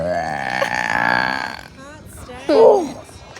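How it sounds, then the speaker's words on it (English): A little kid lets out a long, loud, drawn-out burp, then after a brief pause a shorter, rising burp follows, close and prominent. "Look at this guy burping."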